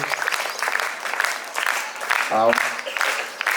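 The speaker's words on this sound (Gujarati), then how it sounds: "આપણે સૌ જોરદાર તાળીઓથી વધાવી" An audience at a children's poetry gathering at a school claps in a sustained, moderately loud round of applause, with a brief voice rising over it partway through.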